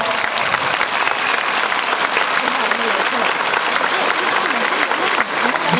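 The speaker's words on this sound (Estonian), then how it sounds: "Ja nüüd on meie siis ja aplaus Viljandile." A dense wash of audience clapping at an outdoor folk festival in rainy weather fills the whole stretch, loud and continuous, with a few voices and crowd noise mixed into the applause.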